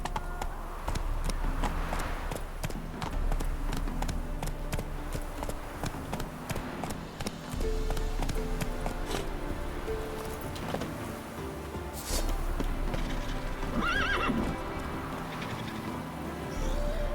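A horse gallops in The Witcher 3 video game, its hooves beating a steady rhythm under game ambience and music, with a brief higher call near the end.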